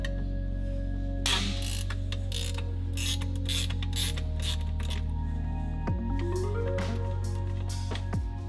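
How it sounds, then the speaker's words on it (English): A 14mm ratchet clicks rapidly and steadily while removing a sway bar link on a Subaru Crosstrek, close and mechanical with a low droning hum behind it. "14mm to remove the sway bar link"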